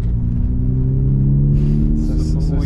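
A BMW 850 CI with a V12 engine pulls away with a smooth, deep, steady engine hum heard from inside the car, the tone rising gently as it moves off, with faint clicks near the end.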